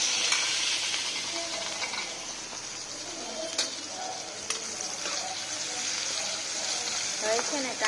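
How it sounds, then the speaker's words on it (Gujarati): Onion frying in oil with asafoetida, a continuous close sizzle with occasional stirring clicks and scrapes, steady for several seconds. "હવે છે ને કાંદાને પહેલાં થોડી સારી રીતે પકાવવાનું છે"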